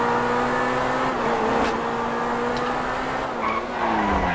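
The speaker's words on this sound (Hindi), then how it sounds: "वैसे गाड़ी यार इतनी तेज भी चलाने का जरूरत है?" A car in GTA 5 races along at speed with a steady loud engine drone and tire skidding squeals, continuous and close throughout.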